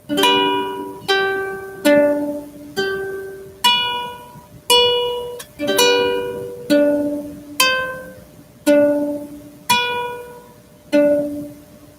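Guitar picking out the melody of The Old Rugged Cross as a steady run of about thirteen single plucked notes, each ringing and decaying into the next, close and clear with no voices.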